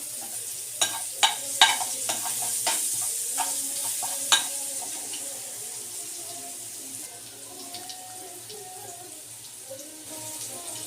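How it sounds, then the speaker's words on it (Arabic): A garlic clove fries in a pan with a soft, steady sizzle, broken early on by a few sharp clinks of a utensil against the pan. "بتحط فص توم كده في نفس الطاسه اهي. متحمرهاش قوي."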